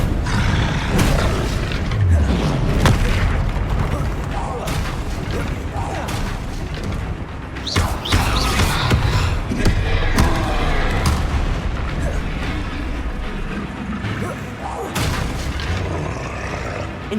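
Bombarda blasting spells exploding in Hogwarts Legacy amid combat near a troll: repeated booming blasts and crunching impacts over a dense, loud game soundtrack, with other spell effects layered throughout.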